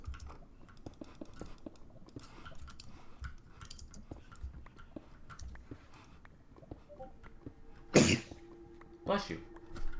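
A single sharp sneeze bursts out loud and close over soft keyboard typing and low room noise, followed a moment later by a second shorter burst.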